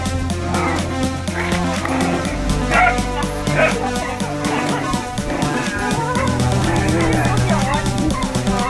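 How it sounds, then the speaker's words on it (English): A whippet whimpers and yips repeatedly in high, insistent cries over continuous loud background sound, with occasional bow-wow barks, eager to join her sister. "It's not Nellie who whimper, but her sister Nos"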